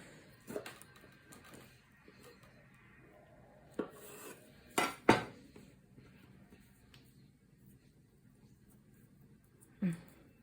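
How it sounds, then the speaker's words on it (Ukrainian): Apple buns are set down onto a baking tray, giving a few sparse clunks and scrapes of metal, two sharp knocks close together midway and a final clatter, over a quiet room. "І викладаємо на противінь."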